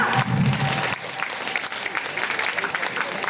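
Applause from an audience at a children's stage drama, a dense burst of clapping filling the room with voices mixed in and a voice talking over it.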